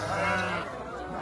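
Sheep bleat at a livestock market in Bethlehem, a close, steady, wavering call that fills most of the moment before trailing off into general crowd and animal noise.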